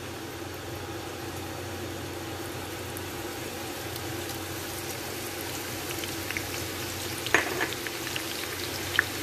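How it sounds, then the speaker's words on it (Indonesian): Onions fry in a pan with a steady, close sizzle that runs unbroken throughout, with a few sharper crackles and light clinks toward the end. "Goreng bawang bombaynya."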